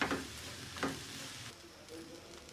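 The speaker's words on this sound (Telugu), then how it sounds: "ఇప్పుడు మనం స్లో ఫ్లేమ్ మీద వేయించుకుందాం" Onions and cashews frying in a pan on a slow flame: a soft, faint sizzle with a couple of brief stirring scrapes near the start.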